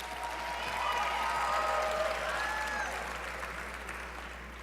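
Warm audience applause at the Young, Gifted and Black Braintrust as a co-host comes out, swelling to a full, steady clatter of clapping with a few whoops over it before gradually easing off.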